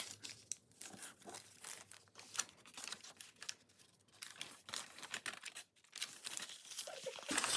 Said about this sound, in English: Actually, I'll fold them in a diagonal.